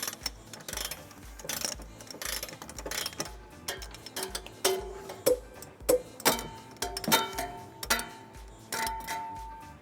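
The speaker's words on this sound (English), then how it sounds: "we're ready to tighten and torque all of them to the manufacturer's specification. We'll be using a 19mm socket for all of our bolts." A ratchet with a 19mm socket tightens trailer hitch bolts on a 2011 GMC Terrain, giving close, rapid metallic clicking that grows into regular bursts of ratcheting strokes, with no voices.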